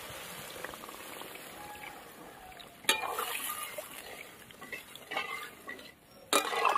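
Water is poured into a pot of potato and spice curry, making sharp splashes and a burst of hissing over a soft, continuous sizzle and stirring, with a few clinks of utensils.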